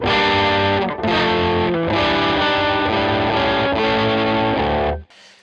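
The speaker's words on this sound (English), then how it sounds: "It's the same distortion throughout, even when we change from doing octaves to the more triad chords." Heavily distorted electric guitar playing octave riffs and triad chords, loud and sustained with brief breaks between phrases, ending in a sudden cutoff.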